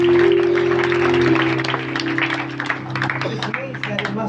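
Applause from a youth church congregation, a dense wash of clapping running steadily throughout beneath a sustained tonal voice or hum, easing slightly toward the end.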